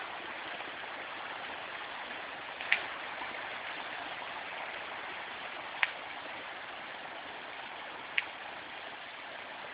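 A wide river streams past in a steady, continuous broadband rush, with three brief sharp clicks or splashes standing out at intervals; no one speaks.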